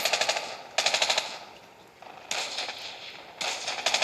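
KN-44 assault rifle fire in a first-person shooter game, several rapid automatic bursts with short pauses between them, crisp and close.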